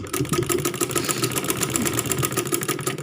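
Sewing machine stitching a kurti, running in a fast, even mechanical clatter of needle strokes that continues without pause, close and moderately loud.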